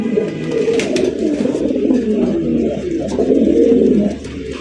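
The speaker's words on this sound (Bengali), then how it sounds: "এই যে দেখেন কালারিং রাজগোল্লা কবুতর" Fancy Raj Golla pigeons coo steadily and close by, a low throaty burbling that rolls on through the whole stretch with a few faint chirps mixed in.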